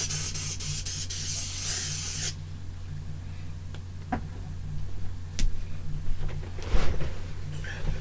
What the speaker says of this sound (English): Lysol, yo.